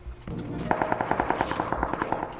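A close, rapid burst of automatic gunfire, about fifteen sharp shots in even rhythm after a few lower thumps at the start, loud and clear.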